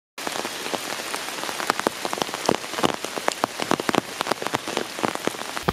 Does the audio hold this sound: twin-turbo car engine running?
no